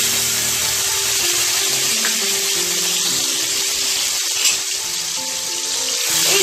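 Green chili and garlic paste sizzles in hot oil for a chicken dish, a continuous hissing crackle with faint spatters and clinks, close and steady with no speech.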